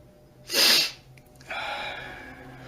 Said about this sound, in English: The sniffles.